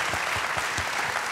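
Dense audience applause at a public forum, steady and fairly loud throughout, with no pauses.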